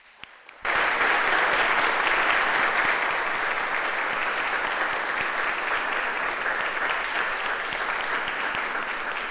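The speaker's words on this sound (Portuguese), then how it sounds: "A igreja pode dar uma salva de palmas." A church congregation breaks into loud applause at a service ordaining a deaconess and elders; after a brief quiet start, dense sustained clapping swells in and fills the room, slowly easing toward the end.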